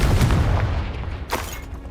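The Confringo fire spell bursts in Hogwarts Legacy combat, a loud booming blast followed by a sharper second crack, close and alone without speech.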